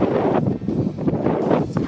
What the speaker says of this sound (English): As you can hear by the wind, the weather.